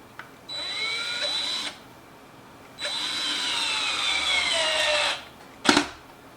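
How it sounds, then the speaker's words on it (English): A power drill whirs in two bursts, the motor pitch sagging as it drives a screw into a smart deadbolt lock, followed by a short clatter. "We're just going to do that with the drill"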